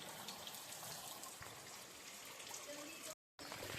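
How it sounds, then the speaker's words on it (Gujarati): Steady rain falling in a Gujarati village during a power cut, a continuous broadband hiss throughout that briefly cuts out near the end. "વરસાદ ચાલુ છે"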